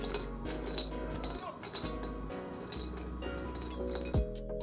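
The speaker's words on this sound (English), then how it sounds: "Now I'm just going to stir this until it completely melts." A utensil stirs dark chocolate and butter in a pan until they melt, making light, irregular clinks and scrapes against the pan over a quiet background.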